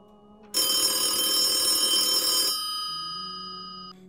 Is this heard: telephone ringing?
yes